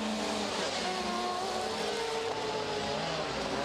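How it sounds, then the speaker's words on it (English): A Citroen Xsara rally car fitted with a rotary engine screams at a rallycross event, a dense high-pitched engine wail holding steady at a loud level throughout. "can hear the screaming rotary engine of Royras's Citroen Zara"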